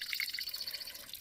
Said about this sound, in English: Teeny weeny little water feature.